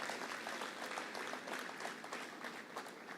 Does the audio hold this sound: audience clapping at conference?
yes